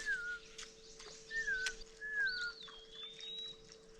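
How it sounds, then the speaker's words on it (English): Several birds call outdoors near water, with clear whistled chirps and a few longer rising notes spaced across the stretch over a steady faint hum, no talking. "Lots of birds talking in here."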